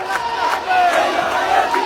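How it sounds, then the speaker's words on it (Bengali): A packed indoor hall at a political gathering erupts into loud collective chanting of slogans, a roaring crowd sound with scattered clapping mixed in. "তখন হলবর্তী সকলেই স্লোগানে করতালিতে মেতে ওঠে।"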